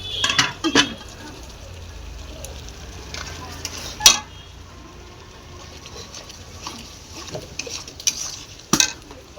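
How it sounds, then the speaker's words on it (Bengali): Spice masala with ground cumin being cooked down and stirred in a pan until the oil separates, with intermittent scraping clinks of a metal spoon against the pan over a faint sizzle. "মশলাটা কষানো হয়ে গেছে"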